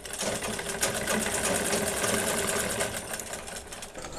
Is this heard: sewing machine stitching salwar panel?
yes